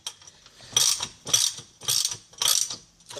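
A hand ratchet tightens bolts on a Harley XLT1200 motorcycle engine plate, giving five quick bursts of rapid clicking close by, with no talk.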